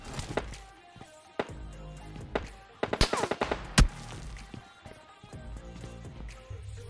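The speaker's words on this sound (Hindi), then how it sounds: "यहाँ पे फुटस्टेप वगैरह आ रहे थे और गोलियाँ भी चल रही थी" Gunfire in PUBG Lite, a battle-royale shooter: scattered single shots and a short cluster of sharp cracks mid-way, mixed with other game sounds, moderately loud with no talk.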